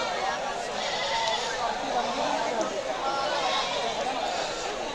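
Goats bleat amid the steady, dense hubbub of a busy local goat market, their calls blending into continuous crowd noise and people talking nearby.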